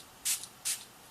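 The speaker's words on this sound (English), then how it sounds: "close my eyes, and spray" A facial setting spray is misted toward the face from about six inches away, two short, close hissing bursts with a brief pause between them.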